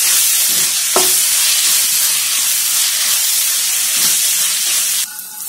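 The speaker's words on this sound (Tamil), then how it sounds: "தக்காளியை போட்டு நல்லா கலரை விட்டுக்கோங்க" Tomato and onion sauté in a pan for a Kerala-style coconut roast chicken curry, a steady loud sizzle with stirring scrapes throughout, a sharp utensil knock near the start, and the frying noise dropping slightly near the end.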